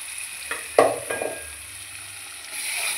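Spice paste with chili powder in a pan for lentil kofta curry, sizzling briefly as a little water is added, with a sharp burst and a few clinks and stirring sounds before settling to a soft hiss.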